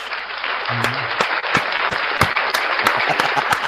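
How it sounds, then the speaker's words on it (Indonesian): An audience at an Indonesian religious debate gathering bursts into steady, dense applause for several seconds, with sharp individual claps poking through a broad wash of clapping and a brief low voice at the start. "Tepuk tangan dulu"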